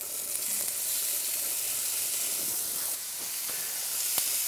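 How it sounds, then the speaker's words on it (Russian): Meat sizzles in a hot frying pan with a steady, bright hiss and faint crackles throughout, close and even in loudness. "Мясо в сковородку."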